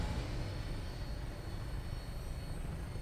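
Steady, continuous engine roar of an aircraft taking off in the video game Fallout 4, a broad loud drone holding level throughout with no speech.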